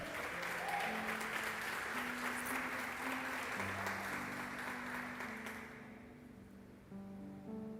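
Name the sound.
church congregation applauding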